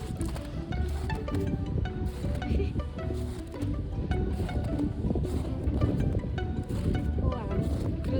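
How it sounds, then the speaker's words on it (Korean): Strong wind buffets a microphone at a Namhansanseong campsite beside a DIY camper van, a steady broadband roar with gusty swells throughout the clip and no clear speech. "오늘 바람 많이 부네"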